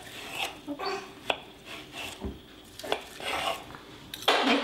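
Vegetables chopped into small cubes on a board in a home kitchen while cooking Armenian zucchini-stuffed eggplants, a series of irregular knife knocks and scraping strokes, close and moderately loud, with no talk.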